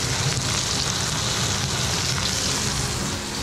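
Steak searing in a ripping hot pan, a loud, steady broadband sizzle that hisses continuously and close up with no voices.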